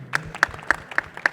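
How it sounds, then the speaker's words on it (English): An audience at an entertainment investment conference session claps, five or six sharp bursts standing out over a softer, steady patter of hands. "Let's give him a round of applause."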